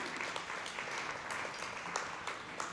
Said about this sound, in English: Let's give an applause again to the two of them, Madam Liang Ho and Chan Sobunwi.